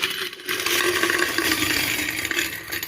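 A dense, clattering rush of coins pours into a container for about two and a half seconds, loud and close, with no talking.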